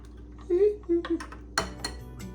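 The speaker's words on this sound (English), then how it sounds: "I need to put the egg into this. I need to beat it in there." Metal utensil clinks and scrapes against a bowl as an egg is beaten into a butter and sugar mixture, a few short clatters near and crisp, with a voice in the room.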